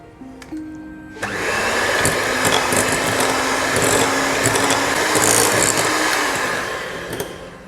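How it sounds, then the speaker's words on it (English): A hand blender whizzes coconut cream in a bowl, starting after a second of quiet and then running as one steady, loud, close whir for about six seconds before cutting off. "I'm going to give it a quick whiz with my hand blender"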